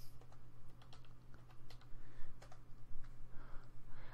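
Quick, irregular clicks of a computer keyboard as a new password is typed in, heard close up and fairly soft over a steady low hum.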